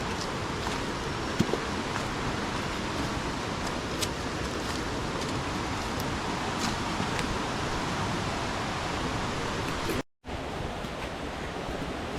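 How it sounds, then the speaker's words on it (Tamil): A waterfall on a Pothigai mountain trek rushes with a steady, broad hiss that stays even throughout, broken only by a brief gap near the end. "சத்தம் நல்லா கேக்குதா? அங்கதான் ஃபால்ஸ் ஓடிக்கிட்டு இருக்கு."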